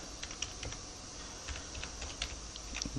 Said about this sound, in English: on the password I'm then going to type in a password that I'm going to use for this user